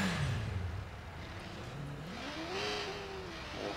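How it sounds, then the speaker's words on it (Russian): A moped engine in the video game Watch Dogs revs up steadily, its pitch climbing and holding over a constant close-up drone of traffic-like engine noise, with no talking. "мопед ничейный"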